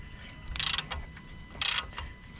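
Ratchet on a Peugeot 407 wheel bolt with a broken head, working a Torx socket: two short bursts of rapid clicking about a second apart, close and fairly loud over faint background noise.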